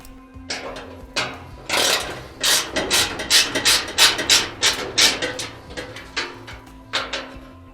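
Rapid repeated ratcheting clicks from a small ratchet removing a 1/4 bit screw on a Maytag Centennial dryer, a rhythmic rasping series of short bursts, close and fairly loud with no talking.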